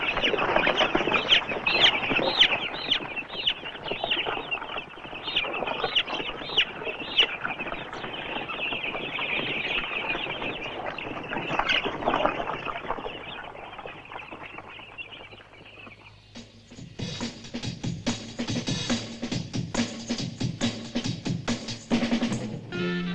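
Chickens and ducks on a farm keep up a steady, dense stream of clucking and calls, loud and close. The flock sound shifts to a different mix of calls near the end.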